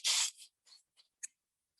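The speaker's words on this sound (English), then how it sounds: "I'm going to hold this at an angle and I'm going to twist this scissors" Scissors twist into a sculpture in a short sequence of crisp scraping snips: one long rasp, then several brief, quieter cuts separated by silence.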